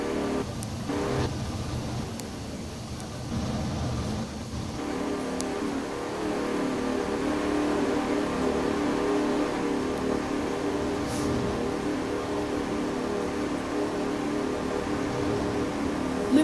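Cars race in the Pummu race video game, with a continuous, moderately loud engine drone and a revving rumble under a steady noisy hiss, and no talking.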